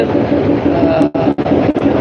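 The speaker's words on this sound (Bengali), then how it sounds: "জয়দেব স্টেশনে এইমাত্র একটি ট্রেন আসবে জামালপুরের উদ্দেশ্যে" A train arrives at Joydebpur railway station on a crowded Eid travel day, a loud, close, continuous rumble broken by a few brief dropouts.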